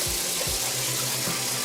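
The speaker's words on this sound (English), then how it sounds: "I'm just filling it with warmish water" Warm tap water runs steadily into a container holding dish soap, a continuous close gushing splash with no talking over it.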